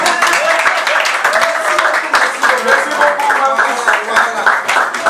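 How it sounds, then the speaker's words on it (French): An audience at an inauguration ceremony claps in a quick, crackling patter while a voice speaks French over it throughout. "Applaudissez pour lui."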